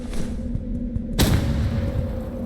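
An explosion goes off in the Roblox shooter Rivals, a sudden sharp boom about halfway through that rings out over quieter game ambience.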